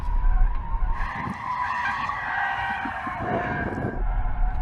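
A BMW 760 V12 saloon slides on a race track, its warm tyres letting out a sustained, loud skidding squeal that holds steadily for several seconds alongside a low engine rumble.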